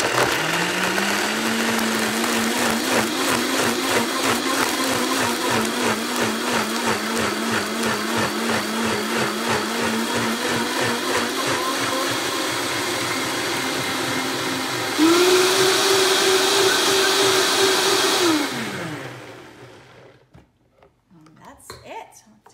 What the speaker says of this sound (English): So let's go ahead and blend this.